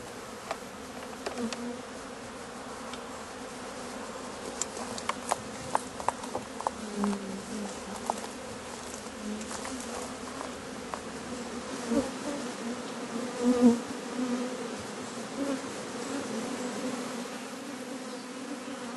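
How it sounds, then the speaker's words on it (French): Honeybees buzz around a rocky spot in the Lozère countryside, a steady dense hum with individual bees droning close past the microphone now and then, no voices. "Alors elles sont pas belles les abeilles?"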